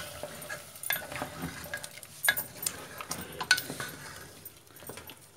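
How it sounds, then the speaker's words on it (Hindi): Green sorrel leaves and dal frying together in a pot for a Hyderabadi curry, soft sizzling under light clinks and scrapes of a stirring spoon, quiet and close. "भाजी के साथ भुनेंगे यह दाल"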